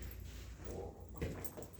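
A restless dog whimpers softly and briefly indoors, a faint, thin whine over quiet room noise.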